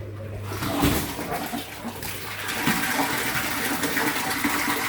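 Water gushes and splashes continuously, a steady rushing flow like liquid being pumped through pipes and draining out.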